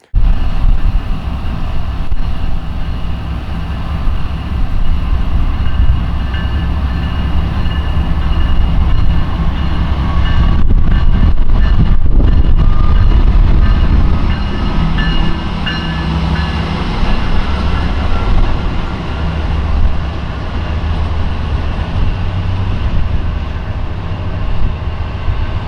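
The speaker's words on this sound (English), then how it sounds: "As the tail end of that train was passing" A Norfolk Southern Dash 9 locomotive train rolls past close by, a loud, steady rumble of wheels and cars that continues throughout with brief shifts in tone midway, no voices.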